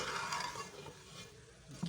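Chicken vegetable fried rice being stirred in a pot, a faint, brief soft sizzle with light scraping and a small knock at the end.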